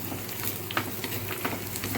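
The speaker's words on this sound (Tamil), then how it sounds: "இப்போ நம்மளுக்கு கருவேப்பிலையும் வத்தலும் நல்லா நம்மளை வதங்குறதுக்காண்டி தான் இப்போ நம்ம கொஞ்சம் லைட்டாக வதக்குறோம்" Curry leaves and dried red chillies frying lightly in a pan for a curd chutney tempering, a steady close sizzle with small crackles and pops, no voices.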